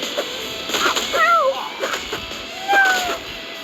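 A cat meows twice in a video game, rising and falling calls over busy game sounds and background noise.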